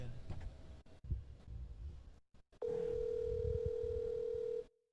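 A phone call rings out with a steady electronic ringback tone while waiting for an answer, starting partway through and continuing unbroken, after a stretch of room noise and faint rustling.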